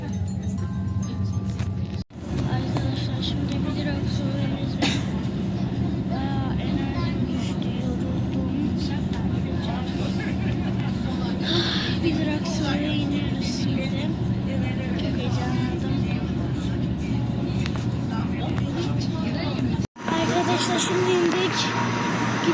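Steady loud rumble and hiss inside a moving metro train in İzmir, continuous throughout with faint clinks, briefly cut twice; a voice talks over the noise at times.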